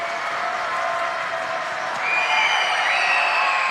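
A girls' high school basketball quarterfinal crowd keeps up a steady roar of noise and shouting to rattle a free-throw shooter, loud and continuous.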